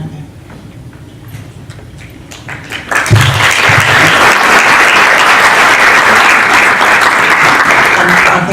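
Audience applause erupts at a talk in Senate House, London, starting as a low murmur then swelling into loud, sustained clapping from a large crowd that fills the room without letting up.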